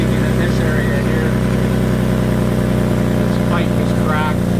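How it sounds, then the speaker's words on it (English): A running 2005 Nissan Xterra idles steadily with a cracked, rusted exhaust pipe leaking near a joint, giving a continuous low rumble while a person talks over it. "Let's have a look at this exhaust leak."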